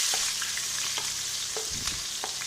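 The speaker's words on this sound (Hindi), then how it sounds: "तेल गर्म हो जाए तो फिर इसके अंदर हमने पहले प्याज फ्राई करने हैं" Onions fry in hot oil in a kadai for baingan bharta, a dense steady sizzle with occasional spoon scrapes and taps, close and loud throughout, no talking.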